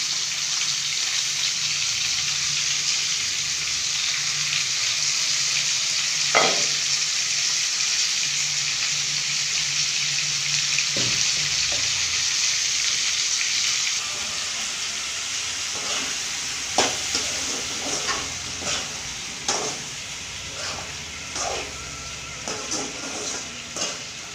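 Eggplant frying in oil with spice powder gives a steady close sizzle, later broken by scattered clinks and scrapes of stirring, with no voices.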